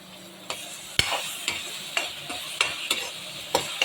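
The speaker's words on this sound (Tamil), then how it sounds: "இது எல்லாமே சேர்த்து நம்ம இப்போ வதக்க போகிறோம்." Chillies, onions and vegetables sautéing in a pan for a fish curry, with a soft steady sizzle under repeated scraping stirs of a spoon, about one every half second.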